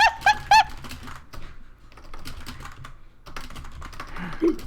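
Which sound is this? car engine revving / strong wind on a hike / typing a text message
typing a text message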